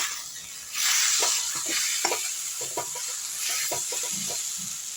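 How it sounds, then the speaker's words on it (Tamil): Green gram and coconut filling stirred in a pan, a hiss that swells after a moment, with scattered soft scraping strokes of a spoon, close and quiet, no talking. "இதையும் போட்டு கிண்டிப்போம் நல்லா."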